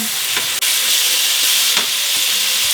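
Lemon slices sizzle steadily in a buttered frying pan, a loud, continuous hiss of frying with faint stirring clicks, close up and alone.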